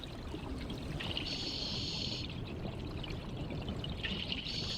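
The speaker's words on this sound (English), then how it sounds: "the waters of the Danube soak through the gravel and disappear back underground" Water from the upper Danube trickles and pours through gravel in limestone country before vanishing underground, a steady close splashing flow with brighter gushing bursts, heard alone.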